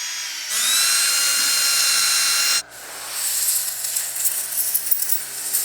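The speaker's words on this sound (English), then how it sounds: "We'll drill some holes and then start laying glass in there." A power drill bores into high-density foam or fiberglass in a boat hull: a steady high whine runs about two seconds and cuts off, then a rougher, uneven grinding and hissing follows, loud and close.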